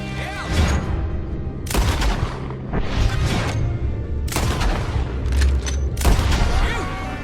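Gunfire in Red Dead Redemption 2 during a farm attack: loud, close bursts of shots and booms come in clusters separated by brief lulls, with gun blasts echoing through the scene.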